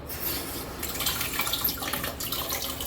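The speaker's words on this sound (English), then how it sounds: "put some cold water in" Water runs steadily from a tap into a sink, a continuous close splashing rush with no voices.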